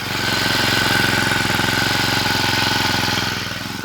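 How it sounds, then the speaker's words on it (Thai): A used Honda four-stroke lawn mower engine runs steadily nearby, a loud, even chugging with a fast regular beat, easing slightly toward the end, with no one talking. "ฟังเสียงเครื่องนะ"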